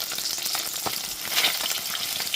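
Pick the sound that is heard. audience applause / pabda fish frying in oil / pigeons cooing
pabda fish frying in oil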